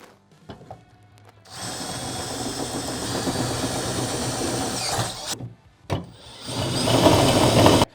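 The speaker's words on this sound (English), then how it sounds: "And then finally, I'm going to drill my 3/8 hole." A power drill boring a 3/8-inch hole while installing a bed stiffener on a 2016-or-later Toyota Tacoma runs steadily for several seconds, cuts out briefly, then spins up again louder, with rattling tool noise throughout.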